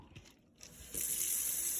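Water pours over young sprouting plants in a tray for a good soak, a steady rushing gush that starts partway through after a few quiet handling sounds.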